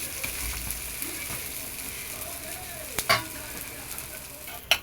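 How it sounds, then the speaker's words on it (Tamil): Lentil adai fries on a hot pan in a soft, continuous sizzle, and oil poured around its edges brings a couple of brief, sharper crackles close by. "கொஞ்சம் எண்ணெய் ஊற்றிக்கலாம் சைடில்."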